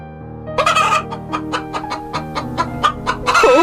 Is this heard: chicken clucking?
yes